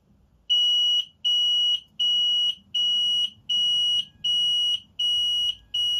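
Apollo XP95 addressable smoke detector on a C-Tec XFP panel sounding its pre-alarm: a loud, steady high-pitched electronic tone pulsing in seven regular on-off bursts about a second apart, with no talk.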